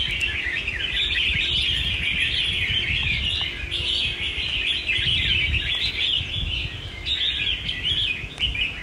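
A caged songbird sings loudly and continuously with bright, sharp, densely packed phrases, close to the listener over a steady low background rumble.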